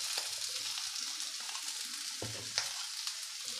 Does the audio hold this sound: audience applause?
no